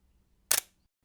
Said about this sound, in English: Now this is a shutter speed of 1 second. This is a fairly slow shutter speed and sounds like this.